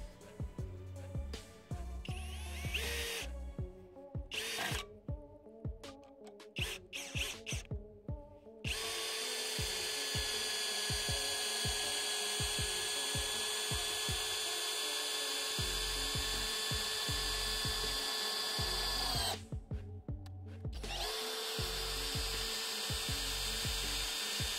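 An Erbauer ECD18-Li-2 18V cordless impact drill drives a 4x20 screw into wood, first in short stuttering bursts, then as a long steady whine broken by one brief pause, loud and close.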